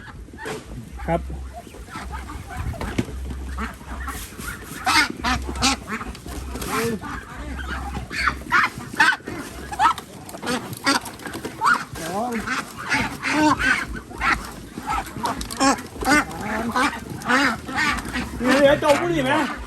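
Ducks quack repeatedly in irregular bursts at close range, mixed with people talking and some rustling in the background.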